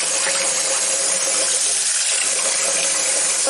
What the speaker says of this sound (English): when we rinse our hair, we don't just hold the water in one spot